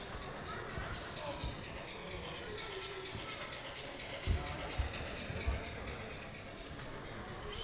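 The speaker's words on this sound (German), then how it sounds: "Und jetzt durchquert die Lok gleich den Bahnhof Neustadt-Glewe." A model steam locomotive runs through a station on a layout at a model railway exhibition, with a continuous rolling rumble and a few soft clicks, while someone talks over it.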